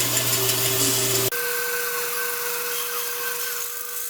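A power saw cuts wood for a scarf joint, guided by a fixture riding in the miter slot. A loud, steady whine with a low rumble cuts off abruptly, then a quieter ringing hum continues as the blade spins down.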